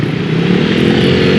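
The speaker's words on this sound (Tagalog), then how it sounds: "Nakakadaan pa mga motor." A loud, continuous engine drone of a motorcycle running close by on a flooded road during a typhoon, steady and buzzing throughout.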